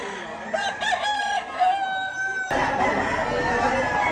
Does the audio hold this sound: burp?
no